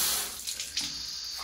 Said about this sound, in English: Turn the tap on here on the cold tap, can't help but laugh. And there's water pouring out of there.